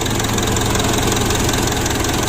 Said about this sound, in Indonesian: Nah ini masih kita panasi mesinnya